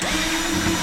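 Power drill whirring steadily as it backs screws out of an on-demand hot water heater being scrapped, a brief close continuous motor drone with no talking.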